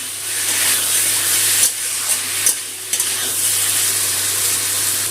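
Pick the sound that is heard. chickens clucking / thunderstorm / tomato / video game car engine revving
tomato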